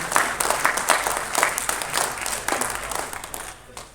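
A crowd at a Tamil film audio launch applauds as director Ponram is welcomed on stage: a full, continuous burst of many clapping hands that tapers off slightly toward the end.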